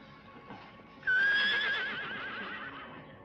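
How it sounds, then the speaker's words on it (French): A horse neighs once, a loud, tremulous whinny that rises sharply and then trails off over a couple of seconds, heard fairly close against a quiet background. "C'était un hennissement, je vous dis."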